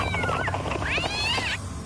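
A pet cat lets out loud, drawn-out meows with sweeping, wavering pitch, close and prominent over a steady background hum.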